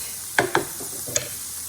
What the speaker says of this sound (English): we're gonna let this, the onions become translucent before we add our meat